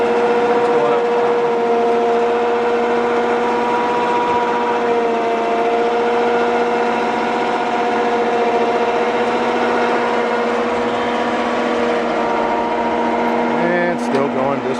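A bed-mounted Warn winch on a 1995 Ford F150 hauls a heavy load into the truck bed, making a loud, steady motor drone with a strained, even pitch that holds for the whole stretch, up close.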